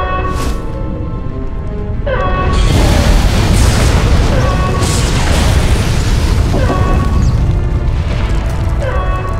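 A loud explosion in the Star Wars: The Old Republic game on Taris, a spaceport going up in flames. A heavy booming blast rolls on into a sustained, roaring rumble for several seconds, with faint voices partly buried beneath it.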